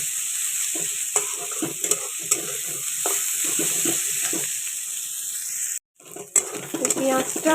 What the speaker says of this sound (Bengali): পেঁয়াজটা আমার একটু ভাজা হয়ে গেছে, একটু লাল লাল হয়েই গেছে।